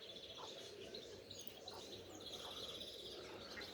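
Old-breed white pigeons with cheeks and whiskers chirp and call faintly after flying, short scattered calls over a steady low hum of background noise.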